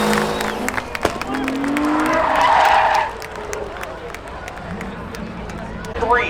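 Race car spinning out during spectator drag racing at Seekonk Speedway, a burst of engine roar and tire skid rising then fading, with crowd noise and a commentator talking over it.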